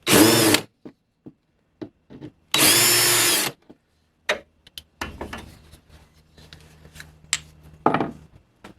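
A power drill bores holes through a metal Jedi emblem on a cosplay pouch with a wood block inside, in two short, loud, close bursts, followed by light clicks and handling noises.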